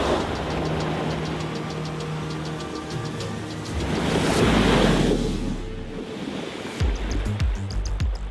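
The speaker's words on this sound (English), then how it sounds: "keep you dry when you're going through deep water" A Tesla Cybertruck wades through deep water off-road, giving a steady rushing, sloshing wash with a low engine-like rumble that swells midway, then breaks into splashy bursts near the end.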